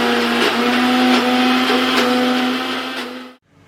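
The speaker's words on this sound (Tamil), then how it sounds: "இப்போ பருப்பு இட்லிக்கு அரைச்சிக்கலாம் மிக்சியில்" A kitchen mixer grinder grinds soaked dal into a coarse batter for paruppu idli, a loud steady motor whine with churning texture running for about three seconds, then cutting off abruptly into near silence.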